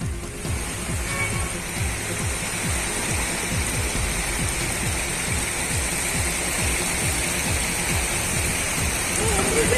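The flooded Payaswini river at Koinadu in Kodagu rushes after heavy rain, a steady, broad roar of fast water that stays loud and unbroken, with a voice talking over it.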